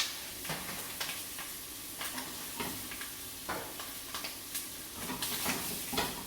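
Chicken browns in hot oil in a pan, a constant close sizzle and crackle with repeated scraping stirs from a utensil at irregular intervals, and nobody speaks.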